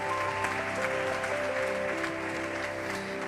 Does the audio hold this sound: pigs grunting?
no